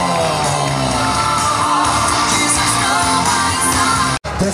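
Crowd cheering and shouting loudly at a strongman contest in Kavarna, a dense continuous roar of voices and whoops with a few bangs, cutting off abruptly near the end.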